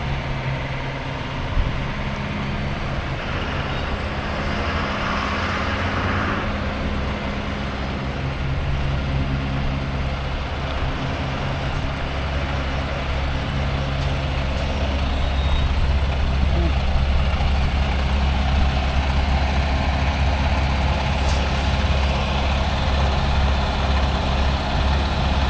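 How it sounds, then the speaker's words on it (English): A truck backs in at a driving school lot, its engine idling low and steady with intermittent reversing beeps, under continuous ambient noise and some talk. "they see a truck trying to back in"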